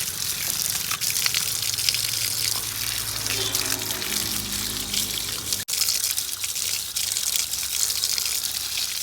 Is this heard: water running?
yes